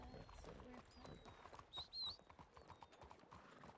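Horse hooves clip-clopping in a steady rhythm in the Red Dead Redemption 2 video game, with a short high whinny rising over them midway; people talk underneath.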